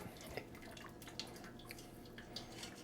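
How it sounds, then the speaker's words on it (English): Faint trickling and dripping of hot water draining from cooked pasta noodles through a colander, soft scattered droplets over a low steady wash, quiet and close. "because it's a colander, water comes out"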